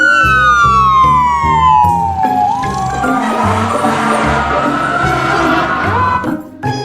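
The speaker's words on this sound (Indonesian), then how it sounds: "Yang ini ada mobil pemadam kebakaran." Toy fire engine siren wailing loudly and continuously, its electronic tone sweeping down in pitch over a low rumbling motor hum, close up and alone.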